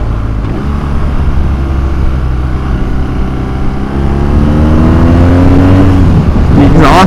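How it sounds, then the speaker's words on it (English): A 2022 BMW R nineT Urban G/S motorcycle's exhaust drones steadily while riding at about 70 km/h, with wind rush throughout and the revs climbing and rising in pitch toward the end. "the exhaust sounds a little bit anemic down low, but it does actually sound good"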